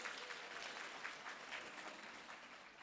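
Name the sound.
applause for teachers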